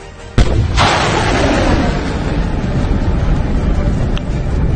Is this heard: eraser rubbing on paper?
no